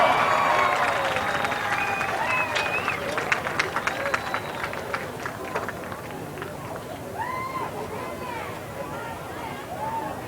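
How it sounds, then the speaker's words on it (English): Football stadium crowd applauding band seniors and their families at a high school game, broad sustained clapping with scattered cheers and chatter, slowly thinning while a voice talks faintly over the noise. "Let's give them a big round of applause."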